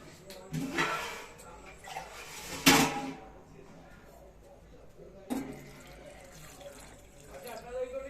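Water splashes into a cooking pot in a home kitchen to boil ingredients, heard as a few short, moderately loud gushing bursts with quiet stretches between, while people talk nearby.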